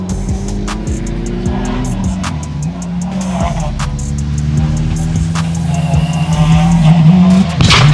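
A rally car at speed on a West Australian Rally Championship stage, its loud engine note climbing and shifting through gears as it approaches and passes close by, with a voice talking over it.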